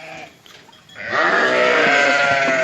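Sheep bleating close by in a pen's vaccination corridor, several overlapping animal calls growing louder and busier after a quieter start, with faint background clatter.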